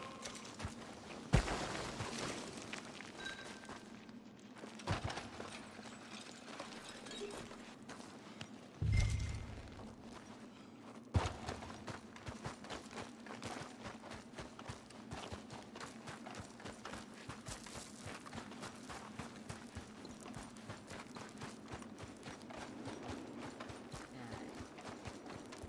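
A horse's hooves clip-clop in an irregular, quiet rhythm, with a few sharper louder thuds among steady soft steps over a faint background.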